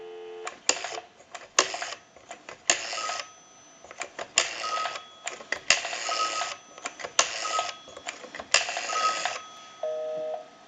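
A repaired Monophone Model 40 telephone gives a busy signal: a steady cycle of loud tone bursts, each about half a second long and separated by short gaps, repeating clearly with no talk over it.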